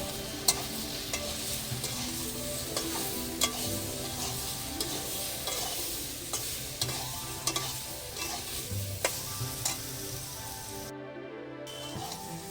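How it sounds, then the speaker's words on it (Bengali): Steady frying sizzle of spices with ground coriander sautéing in a pan, a spatula scraping and tapping against the metal at irregular intervals, close and continuous, with no voices. "এবার আমি একটু কষিয়ে নেব"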